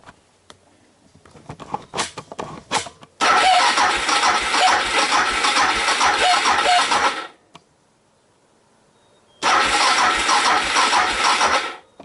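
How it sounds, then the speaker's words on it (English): A motorcycle engine cranks on a lithium battery in two loud bursts of rapid starter churning, one lasting about four seconds and a shorter one later. Quiet clicks and handling noises come before the first burst, with a silent gap between the two. "it just cranks faster and faster"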